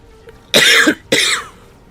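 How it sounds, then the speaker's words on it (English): Two sharp, close coughs about half a second apart, loud and alone with no talk around them. "Oh god, I'm coughing."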